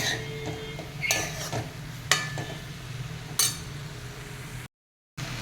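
A spoon stirs green rice pulao mixed with chutney in a metal pot, with scattered scraping clinks and a few sharper knocks against the rim.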